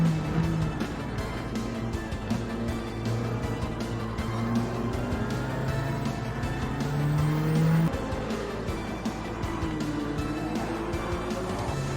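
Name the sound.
Nissan Fairlady Z racing on soft tyres, Gran Turismo 7 video game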